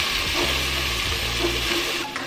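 Onions, ginger and garlic fry in a hot pan for butter chicken, giving a steady, close sizzle with a low hum underneath and soft stirring scrapes, no voices.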